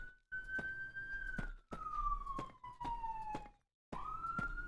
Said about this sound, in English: Normally, I like mute when I hear a siren coming